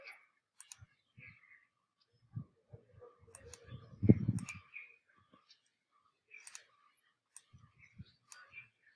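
Sparse, quiet computer mouse clicks, single and double taps spread across a near-silent room, with a brief muffled bump in the middle.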